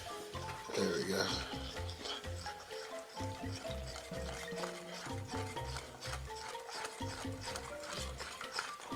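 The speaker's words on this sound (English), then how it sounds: "So we'll put a little bit in, and we'll whisk away." A whisk stirs Cajun shrimp batter in a bowl with a steady, continuous scraping rhythm, mixed under background music.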